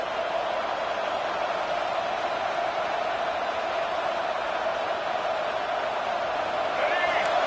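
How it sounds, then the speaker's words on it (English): A packed stadium crowd at a Michigan football game roars in a dense, sustained wall of noise that stays steady and loud throughout, with no distinct voices standing out. "Listen to this crowd just shaking the girders of this place trying to help their defense"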